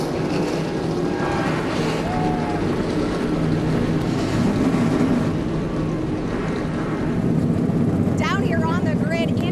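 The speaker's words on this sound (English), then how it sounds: "Drivers, start your engines." Race truck engines start up and idle together on the starting grid at the O'Reilly Auto Parts 250, a loud, steady roar, with an announcer's voice heard over the top.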